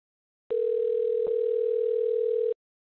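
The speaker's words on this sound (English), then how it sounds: "Damn, that phone ringing for a while." A single steady electronic phone tone, as in a Mandela Catalogue video, holding one pitch for about two seconds with brief clicks at its start and midway, then cutting off into silence.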